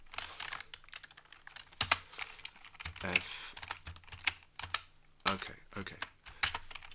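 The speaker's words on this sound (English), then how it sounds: "Is this a new keyboard? I'm not totally at home with it. It's my Arabic keyboard with stickers on" Rapid typing on an Arabic computer keyboard with stickers on the keys, close and crisp with uneven bursts of keystrokes and brief pauses, while someone says a word and makes other short vocal sounds.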